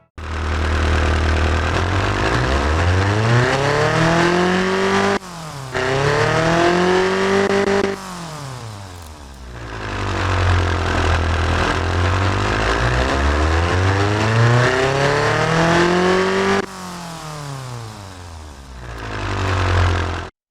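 Simulated Lada VAZ-2106 engine fitted with two mufflers in the game Automation, revving repeatedly: loud, buzzy rises and falls in pitch with brief drops back toward idle between sweeps, continuous and close, no talking.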